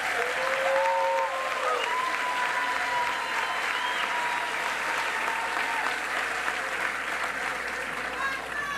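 A crowd applauds at a Brazilian culture minister's inauguration ceremony: loud, dense, steady clapping that fills the whole stretch, with whistles and crowd voices rising above it.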